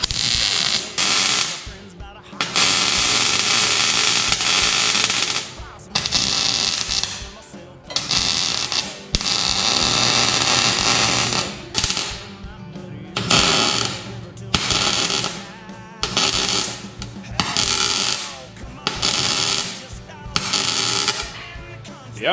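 MIG wire welding on the exhaust outlet of a turbocharged lawn mower, with loud sustained crackling and buzzing arcs in long runs, broken by short pauses, close by.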